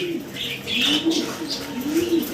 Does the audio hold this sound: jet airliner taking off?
no